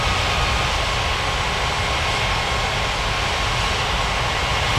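A steady, dense engine roar from an Air India airliner taxiing toward the runway in a flight game, loud and unchanging for the whole stretch with no talking over it.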